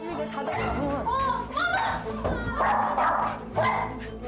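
An aggressive problem dog barking fiercely at a visitor inside a home, loud close repeated barks and yips in irregular bursts, mixed with people talking and background voices.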